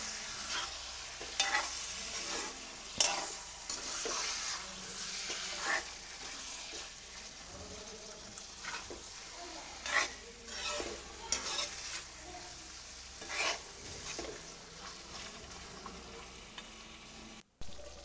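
Chicken pieces for an Easter chicken varattiyathu are stirred and sautéed in a pan without added water, giving a continuous soft sizzle broken by regular scraping strokes of a spoon, fairly quiet and close.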